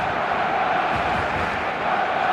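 Dense stadium crowd noise from the eFootball 2026 football video game, a steady roar and chant filling the whole stretch at a consistent loud level.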